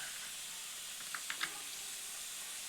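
Onion frying in a pan with salt, turmeric, cumin and chili powder, giving a steady broad sizzle and hiss throughout, with a few brief clicks of stirring partway through.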